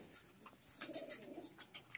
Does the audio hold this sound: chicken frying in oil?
no